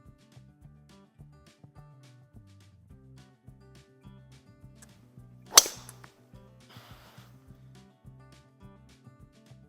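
A golf club strikes a ball off the tee on the Pinehurst No. 2 course, a single sharp crack standing out near the middle over a faint rhythmic background rumble, followed by a brief hiss.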